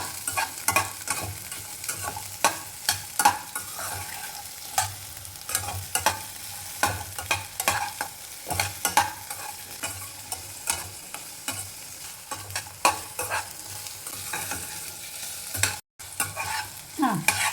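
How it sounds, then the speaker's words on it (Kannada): Ingredients dry-roast in a pan on a gas stove, with a spoon scraping and stirring in frequent irregular strokes and a faint dry sizzle underneath, close by and with no talking. "ಇವು ಎಲ್ಲ ಚಂದ ಹುರಿಬೇಕು ಇವು"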